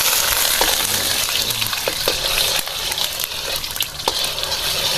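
Ginger slices fry in hot oil with caramelizing sugar, giving a loud, continuous sizzle with occasional light clicks from stirring, and no voices.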